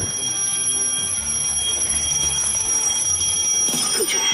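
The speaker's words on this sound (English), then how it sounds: "you need to make sure at least one alarm is ringing by the end of the challenge" An alarm clock rings continuously at a steady, piercing pitch for several seconds, fairly loud, with a faint clatter near the end.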